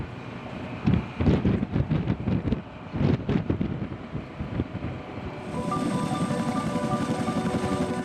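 A heavy-lift military helicopter hovers low over water, with a loud, continuous rotor roar and wind-whipped rumble, pulsing choppily at first before settling into a steady whine-laced drone.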